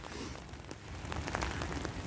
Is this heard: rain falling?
yes